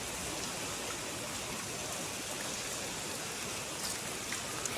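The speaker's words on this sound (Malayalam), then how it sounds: "ഇവിടെ മഴ പെയ്തുള്ള അവസ്ഥയാണ്." Rain falling on a road with runoff water flowing along it, a faint, steady, even wash of noise without pauses or voices.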